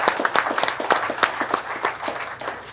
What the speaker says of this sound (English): So a big round of applause for Andy Dykes